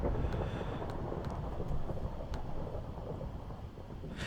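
A Minecraft thunderstorm from the Resonant Rise 3 modpack makes a steady low rumble with rain and wind hiss throughout, cut by a few faint sharp crackles. No one speaks.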